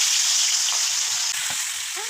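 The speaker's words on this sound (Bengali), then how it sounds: "তেলটা গরম হয়ে গেছে, মুরগির মাংসটা দিয়ে দিব।" Chicken pieces rubbed with turmeric and salt hiss loudly in hot oil, a dense, steady close-up sizzle with a few faint clinks near the end.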